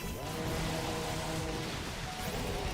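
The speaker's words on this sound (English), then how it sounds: "Oh, I just realized it's raining over there." Steady rain from the Pokemon Scarlet/Violet video game, a constant dense wash of falling drops heard throughout at even loudness, with game music or ambience blended underneath.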